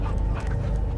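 The dog Cosmo panting in the Guardians of the Galaxy video game, a steady, breathy rhythm of quick pants that is close and fairly loud, with no talking.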